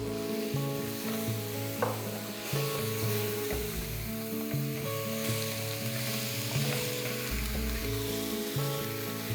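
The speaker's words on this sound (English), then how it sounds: "It's time to add the tomato puree." Ground paste of two boiled medium tomatoes poured into a hot pan, sizzling steadily and loudly throughout, with the stirring scrape of a utensil underneath and background music.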